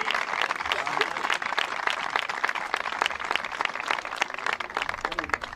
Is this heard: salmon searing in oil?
no